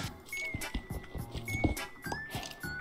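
Growling monsters sound in the game Minecraft, delivering a series of low guttural grunts and snarls in irregular bursts, mixed with other game noises and faint high tones.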